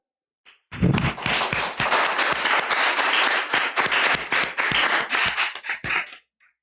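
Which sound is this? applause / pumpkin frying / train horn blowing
applause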